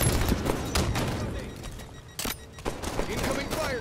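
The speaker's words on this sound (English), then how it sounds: "Incoming fire." Gunfire crackles in a Halo 5 multiplayer match, bursts of rapid shots and sharp booms in uneven clusters, loud and close, mixed with players talking over the action.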